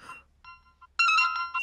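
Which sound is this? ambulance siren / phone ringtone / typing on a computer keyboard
phone ringtone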